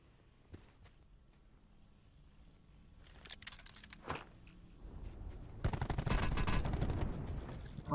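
Gunfire in the Black Ops 4 Blackout battle royale mode, scattered shots and footsteps building into a dense burst of rapid firing near the end.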